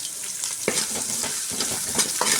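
Onions fry in a pan for bisibele bath, a close, steady crackling sizzle broken by short scraping stirs.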